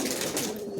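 Giribaz pigeons at a home loft cooing in a soft, continuous low murmur, close by and steady for under a second with no talk over it.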